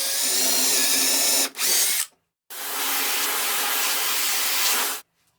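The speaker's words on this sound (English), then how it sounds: "And drill the 2 holes following the same procedure." Power drill boring dowel holes into a wooden board with a doweling jig, two loud steady whining bursts separated by brief silences, close up with no talk.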